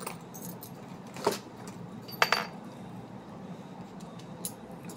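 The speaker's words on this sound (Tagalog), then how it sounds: "ito nahanap kong susi." Keys jangling as they are pulled from a bag, including an original Nissan car key, with a few brief metallic rattles against a quiet background hiss.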